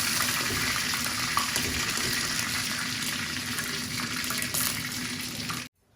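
Six chicken pieces fry in hot oil toward golden brown, a close, continuous bubbling sizzle with scattered crackles that runs steadily before cutting off abruptly near the end.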